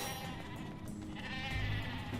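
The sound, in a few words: sheep bleating in Ratchet & Clank video game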